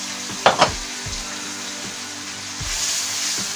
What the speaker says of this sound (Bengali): মশলাটা খুব সুন্দর করে কষাবো।